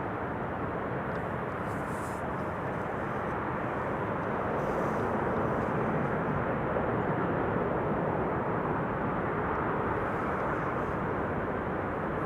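A Cathay Pacific Cargo Boeing 747 arrives at Amsterdam Schiphol Airport, its engines making a steady broad roar that swells slightly partway through and holds, heard from a distance with no voices.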